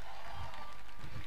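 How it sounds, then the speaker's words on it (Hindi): A college festival crowd at CHARUSAT Spoural 2022 applauds a dance team, a dense, loud wash of clapping and cheering filling the space briefly. "एक बार जोरदार तालियां हो जाए टीम 17 के लिए।"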